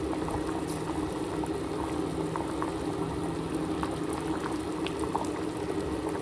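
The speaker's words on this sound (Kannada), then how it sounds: "ಈಗ ಚೆನ್ನಾಗಿ ಮಳ್ಳಿ ಸಾರು ಸಾಂಬಾರು ಚೆನ್ನಾಗಿ ಕುದೀತಿದೆ." Sambar with sprouted gram simmers at a steady boil in a pot, giving a continuous close bubbling and gurgling that stays even throughout with no talk over it.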